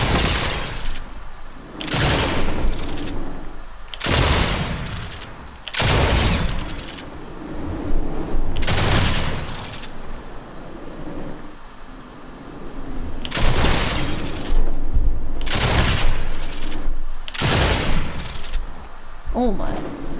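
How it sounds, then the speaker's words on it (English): Shotgun shots in the video game Raiders aim trainer, a string of loud booming blasts spaced a second or two apart, under a voice talking throughout. "I prefer to do it with a shotgun"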